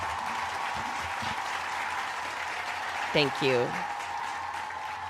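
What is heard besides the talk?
audience applause, clapping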